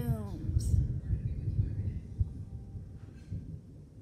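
A low rolling rumble of thunder, loud at first and slowly fading.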